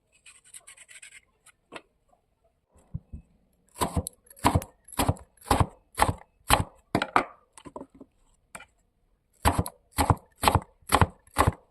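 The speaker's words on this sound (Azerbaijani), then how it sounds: "Qarpız qabığını soyduqdan sonra doğrayıb ləyənə yığıram." Peeled watermelon rind is chopped with a knife on a board, giving sharp close rhythmic cuts, a few scattered at first and then steady runs of strokes with short pauses, with no talking.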